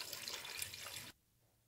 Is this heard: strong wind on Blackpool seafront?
no